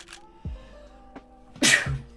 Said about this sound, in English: Oh, I got a sneeze.